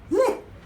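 A single short, sharp puppy bark, close and fairly loud, followed by quiet.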